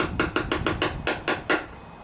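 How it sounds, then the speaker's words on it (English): A giant socket tapped around an oil pan seal on a Briggs and Stratton Intek V-twin engine, giving eight quick, sharp metallic knocks at an even rhythm, close and clear, with no talk. "I have a giant socket here. I'll tap it around until I'm satisfied"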